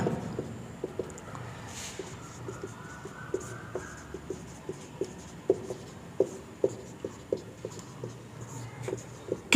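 Chalk taps and scratches across a board as an equation is written, giving sparse, irregular clicks and short strokes at moderate distance in a quiet room.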